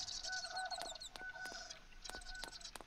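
Birds chirp and cluck in the video game Night of the Dead, with repeated sharp clicking calls and short whistled notes layered over each other, moderately loud and continuous with no talking.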